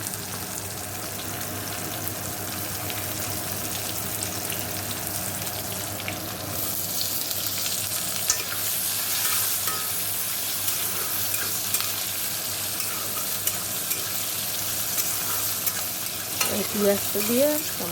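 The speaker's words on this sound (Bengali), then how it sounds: "একটু ভাজা ভাজা হয়েছে এবারে" Steady, close sizzle of latha fish and bitter gourd frying with salt in a pan, with intermittent stirring scrapes and a brief clatter near the end, no talking.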